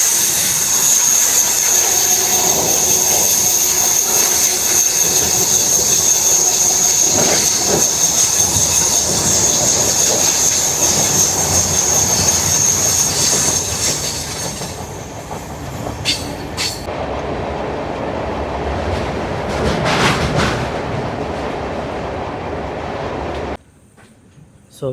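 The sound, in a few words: Seshadri Express train crossing Godavari river bridge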